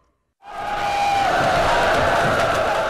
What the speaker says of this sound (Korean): 수나라 군사들의 함성 소리가 들렸다